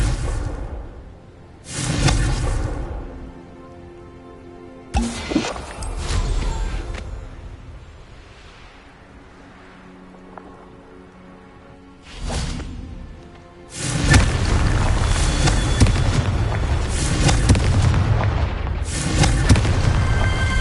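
Blasting-spell explosions in the Hogwarts Legacy video game: loud booming blasts with whooshing bursts recur across the clip, ending in a long sustained roar of rumbling noise.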